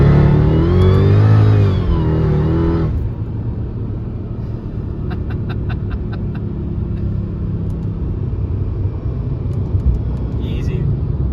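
A modified 640 hp Mercedes E55 AMG engine revving hard in first gear, a loud, rising roar that drops back to a steady rumble as the car keeps driving, with faint ticking sounds and speech nearby.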